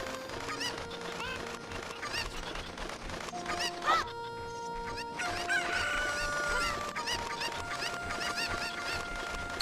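Video game chickens in Zelda: Ocarina of Time cluck repeatedly and let out a crow over steady background game music, the calls fairly close and recurring throughout.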